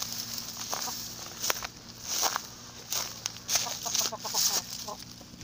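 Chickens and a rooster on an egg farm give soft, scattered clucks and rustling movement, with a few sharper calls over a steady low background hum.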